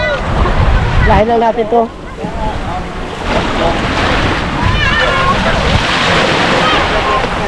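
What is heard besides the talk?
sea waves near a boat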